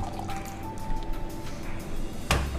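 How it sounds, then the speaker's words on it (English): Water pours and splashes out of a glass Chemex coffee maker in a short gurgling stream, close up, ending with a sharp splash. "And the dumping of the water from the Chemex is one of the unspoken arts."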